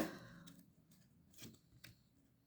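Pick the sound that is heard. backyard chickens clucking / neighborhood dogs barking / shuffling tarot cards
shuffling tarot cards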